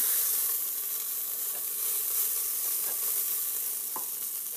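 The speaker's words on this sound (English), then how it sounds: "now I've browned up my meat" Beef browns in a hot pan with a steady, fairly loud sizzle that holds throughout, broken by a few soft scrapes of stirring near the end.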